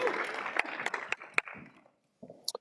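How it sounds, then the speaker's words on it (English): Brief applause from a security conference audience, scattered claps that thin out and fade to near silence after about two seconds, with a couple of final isolated claps. "Round of applause."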